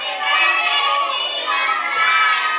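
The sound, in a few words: children shouting together at a birthday party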